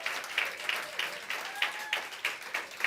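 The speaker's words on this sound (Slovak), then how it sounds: "Nemohol by som začínať s tichou miestnosťou, potrebujem trochu potlesku." A teacher summit audience claps in steady applause, a fairly quiet, even patter of many hands with rhythmic swells, heard alone without speech.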